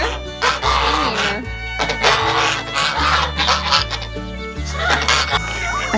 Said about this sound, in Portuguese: Aqui tem os gansos, que são muito escandalosos